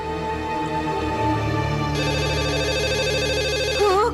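A telephone rings with a warbling electronic tone over a steady, busy indoor background, continuous and fairly prominent, while football plays on a television nearby.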